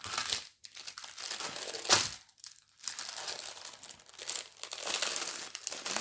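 Plastic packaging around a small resin mould is crinkled and torn open up close in a few bursts of rustling, with short pauses between handlings.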